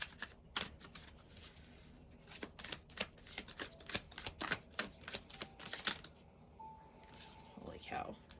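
Tarot cards are shuffled by hand in a series of crisp riffling bursts and flicks, close and fairly quiet, ending with a brief soft rustle and a faint tone.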